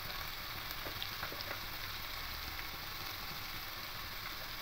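Hot oil sizzles steadily in a pan of small chara pona fish in mustard tel jhal, with green chillies, salt and turmeric powder going in; a continuous, even frying hiss with no voices.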